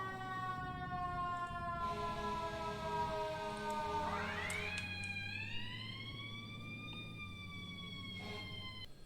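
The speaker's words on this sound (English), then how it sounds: "they have all the same sirens as all the other rigs did" Fire engine siren in the EmergeNYC video game, a steady electronic wail that holds, then sweeps upward in pitch and settles into a higher sustained tone over a low engine rumble, loud and continuous with no voices.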